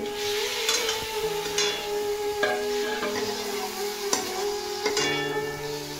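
Kohlrabi fries in a pan of prawn curry, sizzling steadily. A spoon scrapes and stirs in repeated strokes close by, with no talk.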